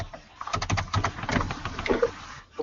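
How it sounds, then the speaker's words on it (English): Computer keyboard typing during an online meeting call: rapid irregular key clicks and taps, fairly faint and close, running continuously with small pauses. "I can always tell when Ken is typing"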